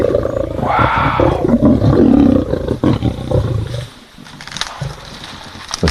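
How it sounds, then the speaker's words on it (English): Lions growling and roaring on a live African safari drive, a loud, deep rumbling roar swelling for several seconds then fading into lower growls, with a single brief exclamation from a nearby voice. "And the growls of the lions."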